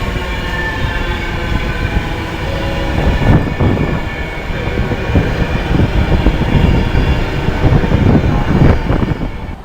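A Class 350 electric train, 350-248, running from Birmingham New Street to London Euston, rolls into Birmingham International station with a loud, close, continuous rumble and rattling wheels that build as it draws in.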